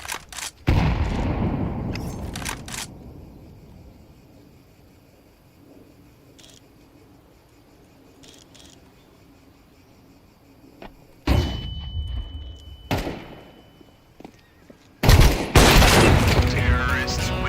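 In a shooter video game, sharp bursts of gunfire and a loud grenade blast are heard amid quieter stretches, with clicks and brief noises between, and players talking at times.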